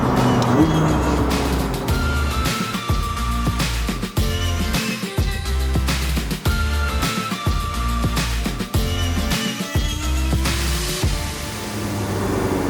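McLaren sports car, a 720S or 570S Spider, accelerating hard in second gear with wheelspin, its engine note rising and falling loudly across repeated shifts, with some tire noise and no talk.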